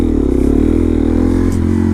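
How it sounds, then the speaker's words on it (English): A supermoto motorcycle idles and rumbles loudly up close, its engine note holding steady with a slight shift partway through as it pops up a curb. "I'll pop up the curb and then try to ride up the stair set there"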